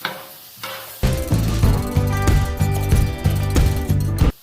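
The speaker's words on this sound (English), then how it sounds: "the vinegar from the pickled jalapenos is starting to deglaze my griddle" Pickled jalapenos sizzling on a Blackstone griddle as their vinegar deglazes the hot surface, a loud, close, continuous hiss and crackle with rhythmic scraping or chopping knocks running through it.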